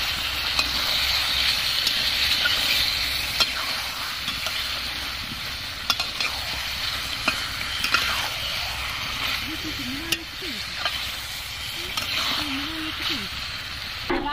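Chicken curry sautéing in a pan hisses in a loud continuous sizzle, with occasional clinks and scrapes from stirring and brief voice fragments in the background.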